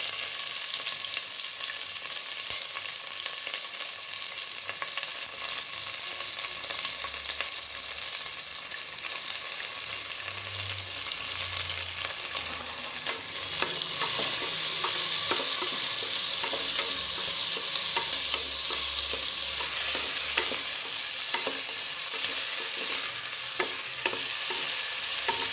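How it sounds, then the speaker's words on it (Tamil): Chopped onion and green chili frying in a pan for peas pulao, a continuous bright sizzle heard up close with frequent scraping and tapping from stirring throughout, no voices. "நல்லா வெங்காயம் வதங்கணும்."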